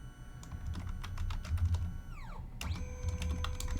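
Someone types a folder name on a computer keyboard, giving a quick run of crisp key clicks near the mic, with a short pause in the middle before the tapping resumes.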